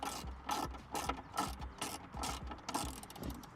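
A hand ratchet loosens screws on the dashboard of a 2016 Ford F150, with steady repeated clicking bursts up close and no talk.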